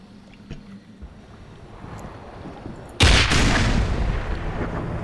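A Panzerfaust rocket launcher fired at a tank in the video game Black Mesa, a quiet windy lead-in broken by a sudden loud blast that roars and rumbles on for several seconds.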